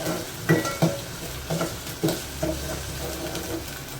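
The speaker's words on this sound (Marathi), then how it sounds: "परतून घ्यायचा आहे व्यवस्थित कांदा आपल्याला लसूण आणि" Chopped onion and garlic sautéing in a pan for a Malvani fish curry, with a steady low sizzle broken by several sharp scrapes and clacks of a spoon stirring against the pan, close and moderately loud.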